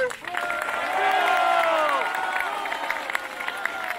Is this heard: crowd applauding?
yes